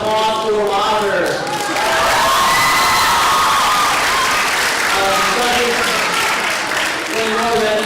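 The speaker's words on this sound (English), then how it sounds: "Let's give another round of applause" An auditorium audience at a speech and debate competition breaks into loud, sustained applause mixed with cheering and excited shouts, filling the room steadily throughout.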